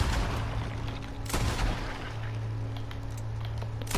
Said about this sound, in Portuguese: Vou tentar atirar aqui nele só